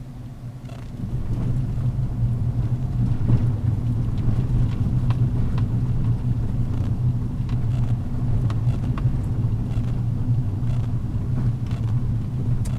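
A car accelerating on the Champs-Élysées roundabout, heard from inside as a steady low engine rumble, loud and continuous, with road and traffic noise and no talk.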